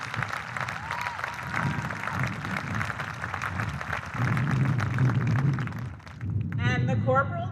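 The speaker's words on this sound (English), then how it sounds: "Let's give a round of applause to all the nominees" A middle school promotion ceremony crowd applauds the award nominees with steady, sustained clapping across the hall, and a voice starts speaking over it near the end.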